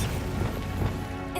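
Bombarda blasting spell in a Harry Potter video game, a dense, loud crashing burst that fills the moment, with smashing debris-like noise sustained throughout.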